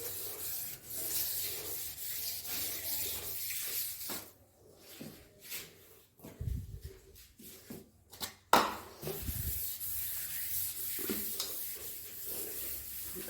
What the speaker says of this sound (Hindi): और पूरी किचन जो है वो रगड़ी जाएगी अच्छे से